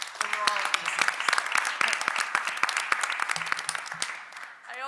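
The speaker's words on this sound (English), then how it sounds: "I hope you will join me in giving him a round of applause for the work that he did over all of these years." Applause for a retiring member at a university board of regents meeting, individual claps distinct and close, with a brief voice near the end as the clapping fades.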